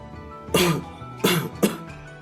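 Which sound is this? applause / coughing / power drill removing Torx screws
coughing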